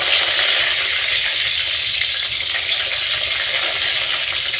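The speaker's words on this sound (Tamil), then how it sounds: "இப்போ வந்து நான் வந்து கருவேப்பிலை போடுறேன்." Curry leaves dropped into hot oil for rasam give a loud, steady, crackling sizzle that holds evenly throughout with no voices.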